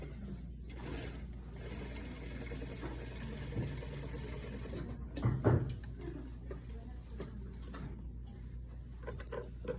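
A sewing machine runs steadily while stitching a sleeve placket on a blouse, giving a continuous mechanical whir with a brief louder burst midway.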